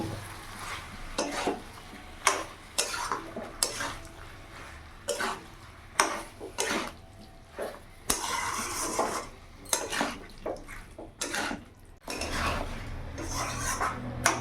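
A spoon mixes chicken, papaya and potato curry with chopped tomato in a pan, giving repeated scraping and clanking strokes against the metal over a soft background sizzle, close up.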